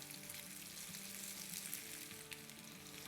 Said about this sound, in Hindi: थोड़ा सा हम इसको फ्राई करेंगे जब तक कि ये हल्की हल्की ब्राउन टाइप की ना हो जाए।